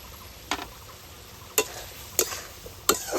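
A spoon stirs Malabar spinach curry just dressed with ghee and garam masala, giving four sharp scraping strokes against the pan over a quiet sizzle.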